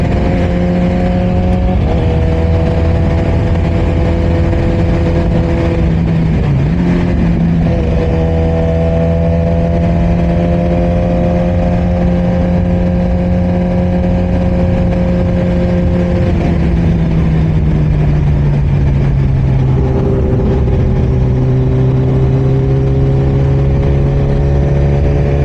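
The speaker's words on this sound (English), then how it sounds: "letting you guys hear the sound of that Brock's exhaust" A Suzuki GSX-R1000 motorcycle with a Brock's aftermarket exhaust idles and revs nearby, loud and throaty, its pitch rising and falling several times over a steady rumble.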